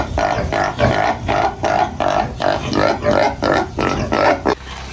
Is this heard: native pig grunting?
yes